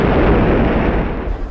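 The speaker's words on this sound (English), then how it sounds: "A muffled explosion shook the whole place and sent Seven and me toppling to our knees." A car's gas tank blows up in a radio drama, a loud, muffled explosion with a deep boom and a rumbling tail that slowly fades, no voices over it.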